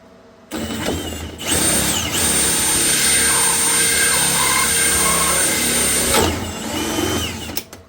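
A power drill bores through a plastic ECU box on a Mitsubishi Magna street stock car, a loud steady whine that starts abruptly, holds for several seconds and then winds down.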